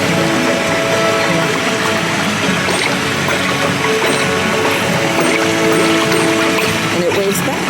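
Water runs along the channels of an interactive stream attraction, a continuous splashing flow under busy crowd ambience with faint tonal sounds in the background.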